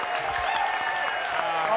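A television studio audience at a New Year's Eve extravaganza broadcast keeps up a continuous roar of clapping and cheering for the whole short stretch, with a voice partly audible within it.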